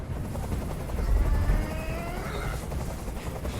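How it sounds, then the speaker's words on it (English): Steady loud rumble of a helicopter in the video game Detroit: Become Human, with whirring rotor noise, continuous throughout with no talking. "I can't stand that noise anymore. Tell that helicopter to get out of here."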